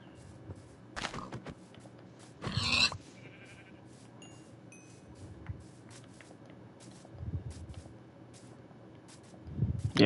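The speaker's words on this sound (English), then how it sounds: "There's some sheep here." Sheep in the Minecraft video game bleat a few times amid quiet game ambience, with short loud bursts and faint footsteps scattered between calls, no talking.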